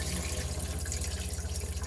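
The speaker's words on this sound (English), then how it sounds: "your sink will then fold down and you've got your tap there" Water runs steadily from the tap into a fold-down sink in an Auto Trail Adventurer motorhome, a continuous close splashing hiss with no voices.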